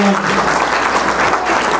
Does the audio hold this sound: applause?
yes